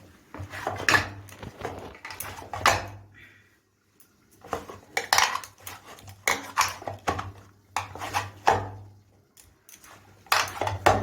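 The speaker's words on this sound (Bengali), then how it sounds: "এবার হাতে করে এমনি করে মেখে নেব, কিছুক্ষণ মেখে নেব।" Dough kneaded by hand in a bowl in a village kitchen, with irregular slaps, presses and knocks against the bowl in uneven bursts, close by, alone, with a low hum underneath.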